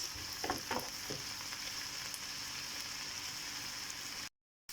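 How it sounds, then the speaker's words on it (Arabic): Onion fries in a pan for a Moroccan pasta dish, giving a continuous soft sizzle with a few crackling pops early on, close and quiet, with no talk. "دابا غنخلي هاد البصله حتى تنزل مزيان، حتى تتشحر مزيان"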